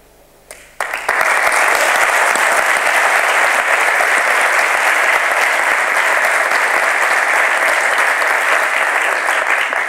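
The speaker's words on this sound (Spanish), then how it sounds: "Bueno, ahora aplausos." Audience applause fills the room after a Spanish-language talk on cloud computing, a loud, steady clapping that begins suddenly and holds evenly to the end.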